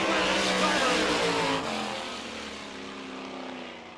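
Keith Kaufman's sprint car roars at full throttle around a dirt track in Barberville, Florida. The loud, raspy engine note holds steady and then fades slightly as the car moves away.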